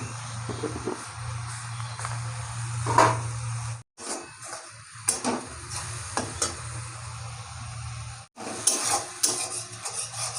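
Spice paste is stir-fried in a pan with scraping spatula strokes and a soft sizzle, broken by two brief near-silent pauses, with occasional light clinks of utensils against metal.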